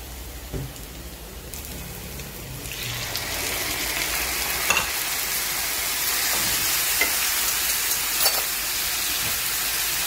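Onion and spices fry in oil for a fish curry, a sizzle that swells from moderate to a dense, loud crackle, with occasional clinks of stirring.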